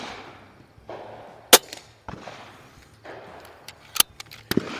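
Buck Rail Notos air rifle shooting Crosman Premier hollow point pellets, with several sharp, distinct cracks spaced apart over a quiet background.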